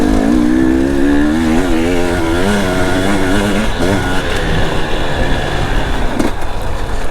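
An enduro motorcycle rides a trail loop, its engine a loud, continuous close drone that shifts in pitch as the throttle changes.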